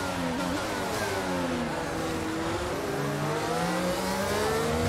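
F1 race car in the F1 22 video game on the final lap at the Belgian Grand Prix, engine revving loudly and continuously with rising and falling gear-change sweeps, alone.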